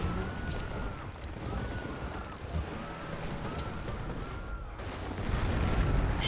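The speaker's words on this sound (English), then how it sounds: "let's bombard the city a bit" Artillery bombards a city in Civilization V, a dull rumbling barrage of distant booms rolling over a steady windy background, with repeated whistling tones and no voices.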